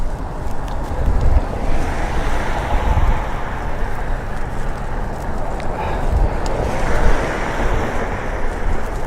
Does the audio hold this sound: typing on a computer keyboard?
no